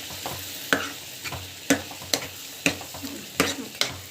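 Chana dal sautés in a pan with a soft sizzle beneath repeated sharp scraping strokes of a stirring spoon, roughly one every half second, close and clear.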